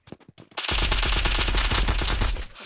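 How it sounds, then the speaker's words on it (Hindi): Rapid automatic gunfire from a VSS rifle in a shooting video game, a few short shots followed by a loud sustained burst of fire lasting about two seconds. "बस वो जो आप फायर कर रहे हो तो उसको दबा के तो रखना है"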